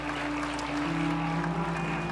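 A church congregation claps together through a Sunday morning service, giving a steady, dense wash of applause over a sustained musical tone.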